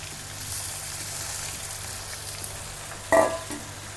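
Cauliflower tipped into a hot pan for aloo gobi fries with a steady soft sizzle, and a brief louder clatter of stirring or added pieces comes near the end.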